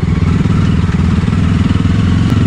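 A Jawa 42 motorcycle carrying two riders is ridden slowly, its engine putting out a loud, steady, close-up thrum with a fast, even pulse and no breaks.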